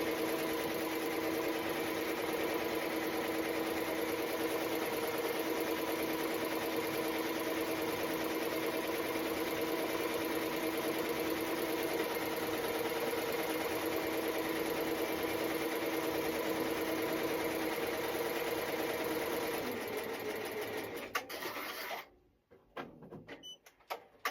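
An embroidery machine stitching a glitter HTV reindeer design onto a t-shirt runs with a steady, fast mechanical whir and needle chatter for about twenty seconds, then slows and stops with a few clunks.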